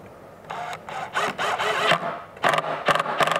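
A screw is driven into pieces of OSB for a miter saw station, heard as a series of short, close whirring bursts from the driver, building to quicker pulses at the end.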